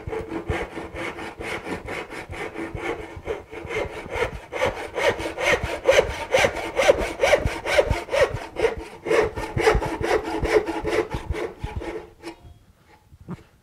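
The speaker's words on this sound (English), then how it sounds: "I'll grab my Lee & Nielsen carcass saw and I can plow through these dovetails just like my dovetail saw." A Lie-Nielsen carcass saw cuts dovetail tails in a wooden board with steady, rhythmic back-and-forth strokes, close and loud, with no voices, trailing off into a few lighter final strokes.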